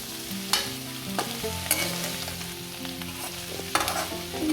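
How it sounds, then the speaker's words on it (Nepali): Green chillies stir-fry in a pan, giving a continuous sizzle broken by sharp scrapes and clinks of stirring, with a sustained tonal background underneath. "यो राम्ररी चलाइ भुट्नु होला"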